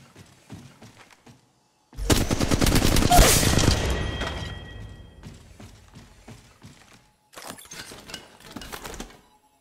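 In the Apex Legends Mobile video game, rapid automatic gunfire erupts in a loud burst of shots with shattering clatter, then trails off into mechanical clicks before a second stretch of quick firing.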